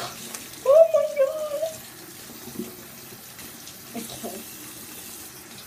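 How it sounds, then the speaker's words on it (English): Running tap water splashing over gloved hands being washed in a sink, a short burst of water noise followed by quieter rinsing sounds, with a person talking. "And now I've got to wash my hands. I need to wash my gloves."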